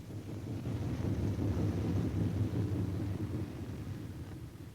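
A B-17 Flying Fortress bomber coming in to land with its left inboard engine dead, a steady low droning rumble of the remaining piston engines heard continuously and fairly loud, with wind-like noise over it and no talk.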